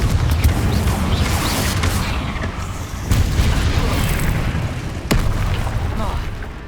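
Explosive booms from fire spells cast in the Hogwarts Legacy video game, loud rumbling blasts with sharp bursts near the third and fifth seconds over continuous combat noise.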